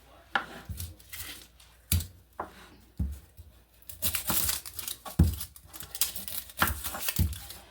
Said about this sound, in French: nous allons découper les oignons